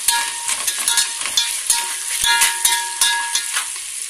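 Onion sizzles in hot oil in a pan with a little salt as the base for chicken biryani, a busy crackling fry broken by frequent stirring scrapes, close and fairly loud.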